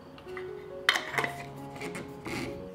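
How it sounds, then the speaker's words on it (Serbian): Glass jars being closed with clean new lids: a sharp clink near one second, then a few lighter rattles and taps of metal lid on glass, close and moderately loud over a faint steady hum. "i tegle zatvaram sa čistim i novim poklopcima."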